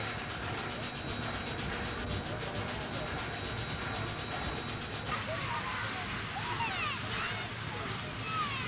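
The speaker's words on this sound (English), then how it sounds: "a locomotive operating under steam power" Union Pacific steam locomotive running in a 1981 doubleheader, with a continuous rushing roar and rhythmic chuffing from nearby, a faint whistle-like tone heard early on.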